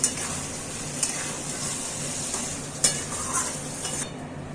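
Mutton with yogurt and spices stir-fried in a pan, Bengali style: a steady close sizzle with repeated scraping strokes of a spoon and a few sharper clinks against the pan, no voices.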